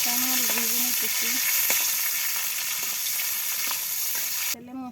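Fish frying in oil for a village-style dish, a steady close sizzle running throughout, with brief background voices and tonal music-like sounds over it near the start and end.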